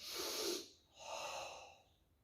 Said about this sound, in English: You've punched. Breathe in.